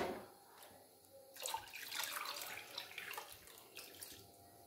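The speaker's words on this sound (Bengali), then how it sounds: "তাই আমি প্রথমে আরও জল মিশিয়ে দেব।" Water poured from a container into a pot of soaking plants for a homemade organic pesticide: a steady splashing stream that swells midway and continues, fairly quiet and with no talking.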